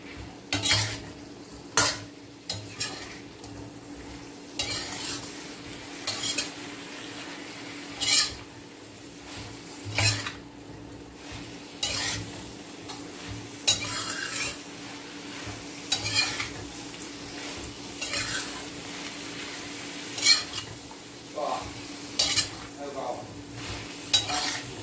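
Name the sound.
stirring and frying tempe in a pan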